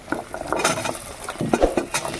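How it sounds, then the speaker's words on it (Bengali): Whole onions are added to a cooking pan and stirred, giving close scraping and clinking of a utensil against the pan in an irregular rhythm, with faint sizzling underneath. "এবার আমি গোটা পেঁয়াজগুলো দিয়ে দেবো মুড়ি পেঁয়াজগুলো"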